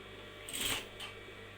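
A sewing machine stitches around a dress frill, a short faint whirring burst followed by a second brief run, close by and with no voices.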